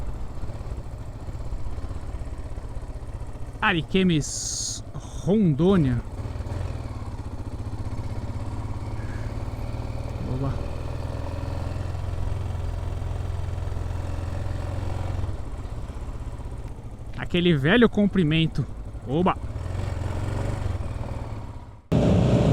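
A 1988 Yamaha Ténéré 600 motorcycle drones steadily at a low rumble while riding along a highway in Rondônia, the engine note constant throughout with wind noise, and a voice speaking briefly at a few points.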